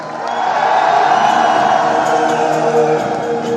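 An audience at a grand celebration in Thailand claps and cheers as people are called up on stage, a sustained loud wash of applause and whoops with voices shouting over it.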